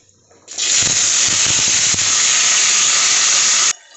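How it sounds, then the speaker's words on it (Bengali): Potatoes dropped into hot oil spiced with black cumin seeds erupt into a sudden loud, steady sizzle that holds for about three seconds, then cuts off abruptly. "এখানে তেল গরম হয়ে গেছে একটু আমি কালো জিরে ফোড়ন দিয়ে দিচ্ছি এখানে আমি আলুটা ছেড়ে দিচ্ছি"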